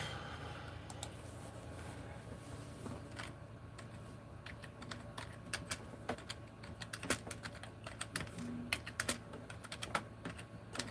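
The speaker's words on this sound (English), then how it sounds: "Typing one-handed." Computer keyboard typed on one-handed: a quiet, irregular patter of close key clicks over a low steady room hum, with no talk.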